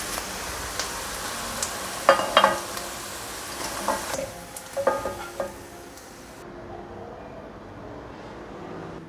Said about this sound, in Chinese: 再让它另一面煎成焦黄色，第二面很快就变成焦黄色了，因为油温有够了。